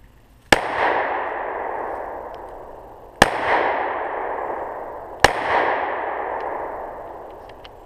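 Three sharp pistol shots firing rat shot (snake shot) cartridges outdoors, loud and close, spaced a few seconds apart, each followed by a long echoing decay, with no talking.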